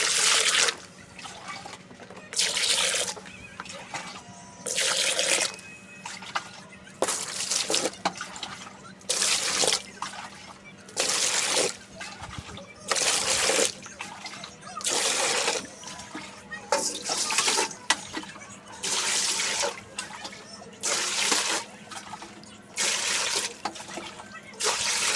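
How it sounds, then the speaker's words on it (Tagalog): A basin is refilled with clean water for rinsing laundry, with repeated bursts of running tap water pouring in, each lasting a second or two and separated by short pauses, loud and close. "Refill the basin with clean water."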